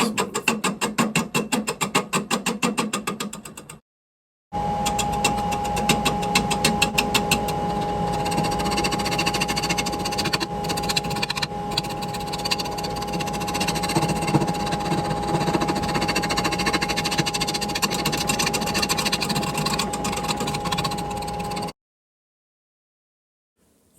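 A wood lathe spins a live-edge catalpa bowl at roughly 550 RPM. A steady motor drone runs under a rough, continuous scraping of the cutting tool. A brief gap falls early, and the sound stops abruptly near the end.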